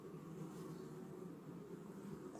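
Honey bees cluster on a hive frame during an inspection, giving a faint, unbroken, even hum with no other sounds.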